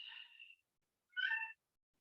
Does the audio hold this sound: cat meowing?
yes